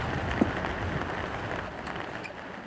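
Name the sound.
rain falling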